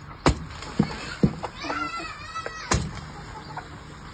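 Chickens let out into the open clucking in short bursts with a few sharper squawks, fairly close, with faint voices in the background.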